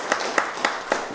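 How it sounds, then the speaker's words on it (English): Audience clapping at a Lakota art space wire toy making event, honoring a renowned Lakota painter; brief sparse claps spaced at a steady rhythm, moderately loud in a room. "give him a round of applause,"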